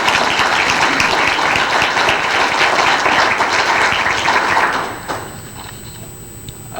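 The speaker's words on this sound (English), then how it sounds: "So big round of applause for our candidate." Applause for a candidate at a county state's attorney forum, dense and steady clapping from the audience that fades out abruptly near the end, leaving a quiet room with a thin electrical hum.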